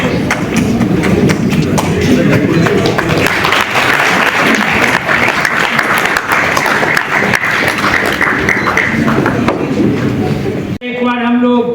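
Loud, dense applause from an audience at an award ceremony at a convention centre, sustained clapping throughout and cut off abruptly near the end.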